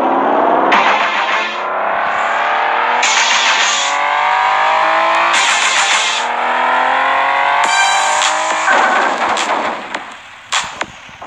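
A stock car engine races in a video game, loud and close. It revs up through the gears in repeated rising sweeps, each cut by a sharp shift, before tailing off with a few pops.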